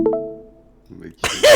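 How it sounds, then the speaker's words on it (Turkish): A cough from a man, loud and close, comes as a short burst at the end, right after a brief spoken word. "Öksürdüm"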